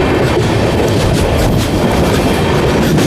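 An Amrit Bharat Express running on the Brahmapur–Udhna line heard from on board, with a loud, steady rumble and rhythmic clickety-clack of wheels over rail joints throughout.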